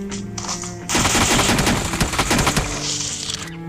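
Automatic gunfire in the video game PUBG Mobile: a sudden loud stretch of rapid, dense shots rattling in continuous bursts for nearly three seconds, with no talking.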